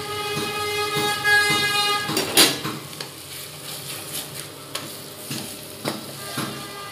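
Elephant foot yam and potatoes sauté with Kashmiri chilli powder and spices in a pan, giving a constant sizzle with repeated sharp scrapes and clanks of a spoon against the pan, close and moderately loud, with no voices.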